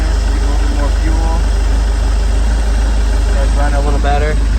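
The engine of a 1988 StingRay Supersport boat idles loud and close after a fuel needle adjustment, a steady low throbbing drone throughout, with someone talking over it.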